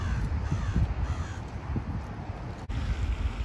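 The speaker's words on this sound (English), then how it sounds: "That was a lot of birds, y'all." Large flock of crows cawing outdoors, many harsh calls overlapping in a dense chorus over gusty wind noise, with a brief dropout near the end.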